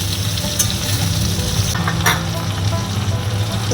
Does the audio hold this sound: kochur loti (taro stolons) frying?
yes